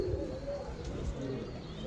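A breeder pigeon coos softly and low in a steady murmur close by, with a faint background hum and no speech.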